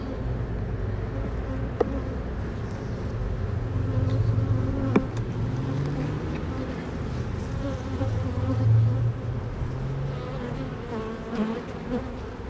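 A steady swarm of honey bees hums around an open hive during an inspection for honey, nectar, pollen and brood. The drone is continuous and close, with occasional faint clicks and handling sounds and no talk.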